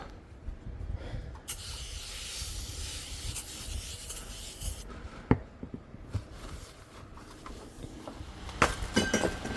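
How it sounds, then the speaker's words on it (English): Glass cleaner is sprayed and wiped across the front of an RV, giving steady rubbing and squeaking strokes with occasional sharp clicks and taps, close up and without voices. "The next step is I need to wipe it down with some cleaner"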